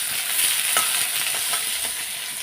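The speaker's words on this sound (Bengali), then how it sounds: "এখন পেঁয়াজটা আমি ভেজে নেবো লাল লাল লাল লাল করে ভেজে" Onions frying in a pan to a reddish brown, part of a home-cooked fish chorchori dish, giving a steady close sizzle with a few brief stirring scrapes and no talking.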